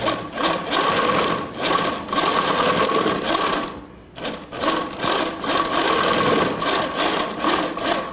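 A sewing machine runs a zigzag stitch along the selvage edge of two fabric pieces, a steady, close mechanical whir with rapid rattling rhythm, pausing briefly midway before resuming at the same even pace.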